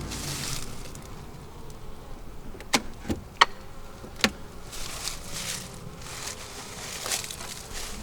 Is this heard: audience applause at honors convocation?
no